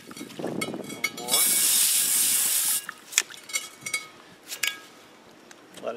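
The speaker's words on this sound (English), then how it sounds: "take some brake cleaner. Any brake cleaner works fine. And start rinsing down the whole brake drum assembly" Brake cleaner sprayed from an aerosol can onto a drum brake assembly gives a loud, steady hiss of about a second and a half, followed by a few scattered taps and drips.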